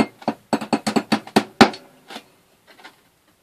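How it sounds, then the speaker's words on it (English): A quick series of about ten light metallic hammer taps on the working end of a drill bit in an even rhythm, ending with one sharper strike, then a couple of faint taps. "I'm ramming a hammer onto the working end of the drill"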